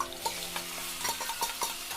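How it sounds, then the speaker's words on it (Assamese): Chicken pieces frying with onions in a pan: a bright, continuous sizzle with light stirring scrapes and crackles ticking through it, close and fairly soft. "আৰু ইয়াতে এতিয়া মাংসখিনি মই ধুনীয়াকৈ ভাজি ল'ম"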